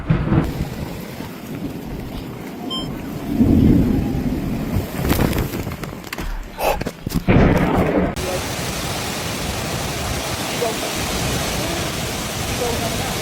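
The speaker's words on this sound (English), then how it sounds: "a dust storm in Mussel Canal was followed by sudden heavy rain and continuous lightning." Heavy rain pours steadily during a Dutch thunderstorm, with a loud crack and rumble of thunder partway through, then a dense, continuous roar of downpour continuing to the end.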